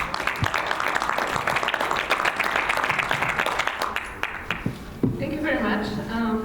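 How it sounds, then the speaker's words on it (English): An audience at a World Congress of Families conference applauds a speaker with crisp clapping that fades after about four seconds. A voice then starts speaking over the dying claps. "Let's give a round of applause for Weronika."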